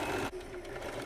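A sewing machine runs steadily while stitching a seam on satin pyjamas, a continuous mechanical whir that drops off briefly and then carries on close by.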